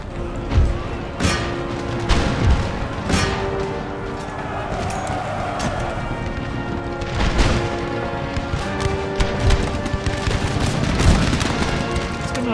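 Musket volleys crackle in the video game Empire Total War in repeated rolling bursts of massed fire with heavy thumps, loud and continuous over a battle din.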